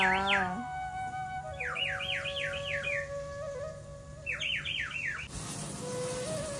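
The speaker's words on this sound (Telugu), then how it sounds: "ఏ బర్డ్ వచ్చింది?" A bird calls in a series of quick, repeated whistled sweeps, two clusters of several notes each, over a steady background hum, fairly faint.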